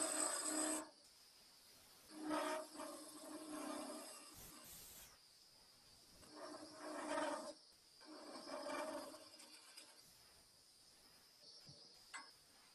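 Wood lathe making a smoothing cut on a mallet handle, faint rasping and scraping of the tool on spinning wood that comes in several separate passes with quieter gaps between them.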